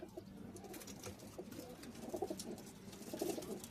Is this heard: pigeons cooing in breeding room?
yes